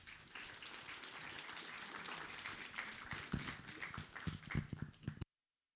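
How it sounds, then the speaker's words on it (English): An audience at a county Farm Bureau political forum claps for two District 2 candidates as they come up, a steady patter of applause with a few louder nearby claps toward the end before it stops abruptly. "Y'all give them a round of applause."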